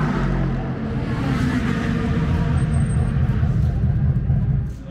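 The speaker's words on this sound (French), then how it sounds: "Une LMP2, les voitures dont je vous parlais tout à l'heure, là vous l'avez vu de près, vous entendez ce ronronnement" An LMP2 prototype race car engine hums with a deep, steady low drone, close and continuous, swelling slightly before fading at the end.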